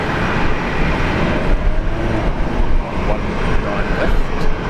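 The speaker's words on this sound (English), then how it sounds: "We've got velocity 946 lining up for Sydney" Loud, rumbling engine noise from a Velocity airliner lining up on the runway at Brisbane International Airport for Sydney, dense and continuous with slight surges in level.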